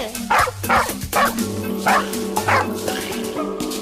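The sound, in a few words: cartoon dog barking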